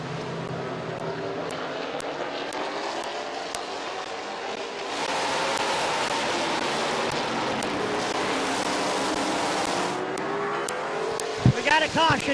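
Late model race cars roar off at the start of a heat race at Midvale Speedway, a broad, steady engine drone that swells louder midway through and holds, with a few sharp knocks near the end.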